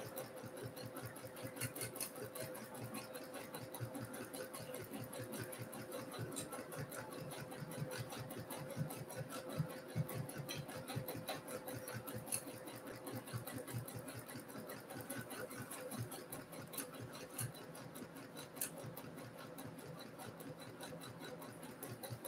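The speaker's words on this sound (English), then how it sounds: "every time that the machine takes a stitch, that's when you take your opportunity to give it a little move" A sewing machine stitching steadily during free motion quilting, a faint, even, rapid mechanical whir and ticking of the needle that continues unbroken throughout with no talking.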